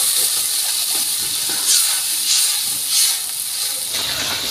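Water poured over hot fried mustard-style masala and small pabda fish hisses loudly and steadily in the pan, surging now and then over a constant bright steamy sizzle, with no voices.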